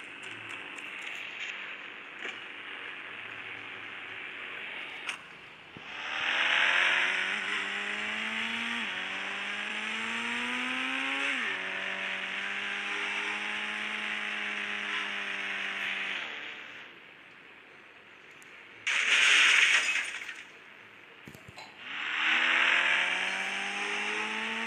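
A Lamborghini car in a video game revs hard with rising and falling engine tones as it races up and off a ramp, loud bursts separated by brief quieter gaps.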